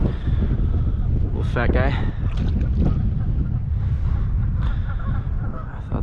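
Strong wind blowing outdoors on the water during bass fishing, a steady broadband rush buffeting the microphone throughout, with someone talking over it.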